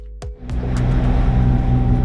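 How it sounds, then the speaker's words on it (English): A sailing boat's engines run steadily while it is underway at sea before dawn after leaving West End, Bahamas. A few sharp knocks at the start give way to a close, continuous low droning hum. "You can hear the engines going."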